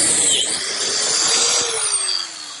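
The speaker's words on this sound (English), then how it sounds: "I'm making a slot for a biscuit to attach it to the frame." A biscuit joiner cuts a slot into a plywood brace, giving a loud, steady high-pitched whine with a gritty cutting rasp that runs for a few seconds before tapering off near the end.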